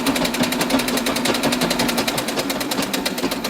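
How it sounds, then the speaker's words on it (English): Treadle sewing machine stitching a straight seam along a cloth table napkin, a fast steady mechanical clatter of rapid even stitches, close and loud, running continuously with no talk. "this is a treadle machine I'm working with here"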